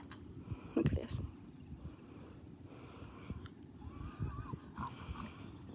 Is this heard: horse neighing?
yes